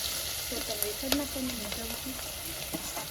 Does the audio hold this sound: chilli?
yes